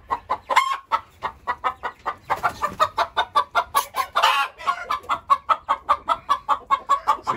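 A hen clucking inside a barn housing meat-breeding chickens, close and clear, in a fast, regular series of short clucks that runs almost without pause, with a brief louder burst midway.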